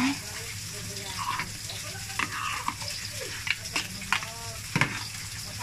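Food being stirred in a cooking pot, with intermittent scraping and clattering strokes over a soft sizzle, fairly quiet and close, while people talk at times in the background.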